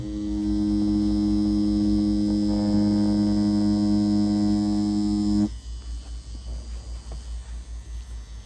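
A tattoo machine fitted with a T&T needle cartridge buzzes steadily and loudly for several seconds while pulling a line, then shifts to a rougher pulsing hum, with no talk.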